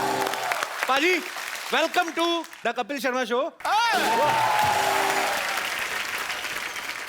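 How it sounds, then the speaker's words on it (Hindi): Studio audience applause on an Indian TV comedy show, with a host speaking in Hindi and being cut off by clapping that swells into a loud continuous roar of applause. "एक बार अक्षय पाजी और रितेश के लिए जोरदार तालियां।"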